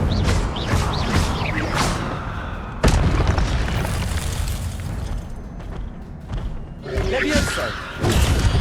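Incendio fire spells cast in Hogwarts Legacy, a series of loud booming whooshes and bursts, with sharp impacts near three and eight seconds, mixed with shouted voices casting spells.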